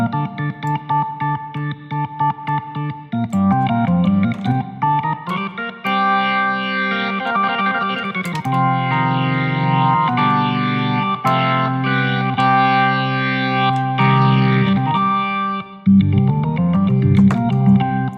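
Classic rock organ patch in the ToneStack app by Yonac, with effects and dampening: sustained chords and quick runs with a chorus-like shimmer, loud and continuous, no voice.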